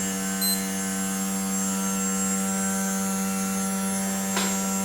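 A small DC motor driven by an NE555 control circuit runs with a steady, even electrical hum rich in overtones, constant throughout, with one faint click near the end.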